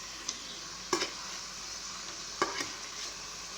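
An egg omelette with boiled egg frying in a pan and flipped over like a dosa, a constant soft sizzle broken by two or three brief scraping clicks of the turner.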